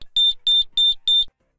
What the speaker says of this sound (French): le niveau d'alarme pré-alarme faible qui déclenche des bips de 5 secondes sur la